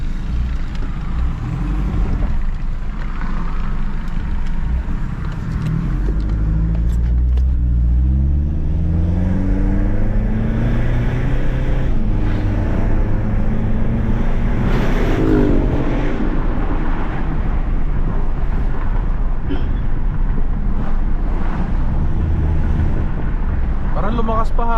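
Mitsubishi Strada pickup fitted with a full aftermarket exhaust system, engine idling and revving in a muffler shop, a steady moderate rumble with rising rev sweeps, someone talking over it throughout.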